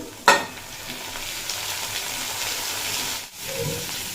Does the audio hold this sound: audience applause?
no